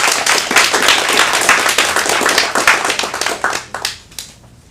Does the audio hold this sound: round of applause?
yes